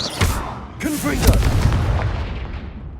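Confringo fire blast spell in Hogwarts Legacy combat: a few booming, explosive bursts with crackling impacts, fading into a decaying rumble; a voice calls out briefly among the blasts.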